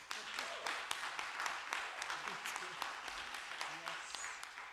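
Audience applause at a town hall meeting, a sustained patter of many hands with a few louder individual claps, heard at moderate distance with faint voices mixed in.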